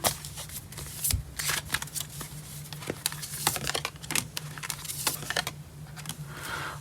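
Rapid crisp riffling and clicking of tarot cards being shuffled close up, in quick irregular bursts over a low steady hum.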